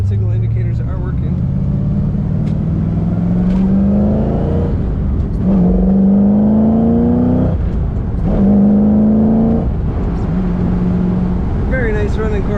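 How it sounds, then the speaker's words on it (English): 1973 Chevrolet Corvette convertible with a 4-speed, top down, accelerating through repeated gear shifts, each rev climbing in pitch before dropping at the shift, engine loud and close with wind noise and someone talking over it. "Very nice running Corvette, good acceleration"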